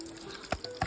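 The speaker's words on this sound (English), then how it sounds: "Water's running down. Making bubbles." Meltwater trickling down over ice on a hiking trail, forming bubbles; a faint steady wash of water with two small bubbling plops standing out near the end.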